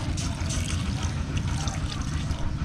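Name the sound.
water poured into the soup while cooking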